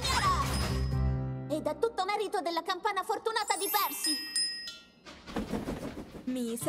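Percy's lucky bell in an Italian-dubbed Thomas the Tank Engine cartoon rings in a bright, sustained tinkle under a character's animated speech, with music and effects around it.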